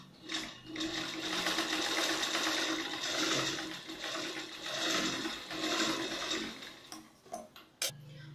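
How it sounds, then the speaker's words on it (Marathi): A sewing machine stitches tucks on the back piece of a katori blouse, whirring close and steadily for several seconds in a continuous run before it slows and stops, followed by a few sharp handling clicks. "आता ते टक्स मी आधी मारून घेते"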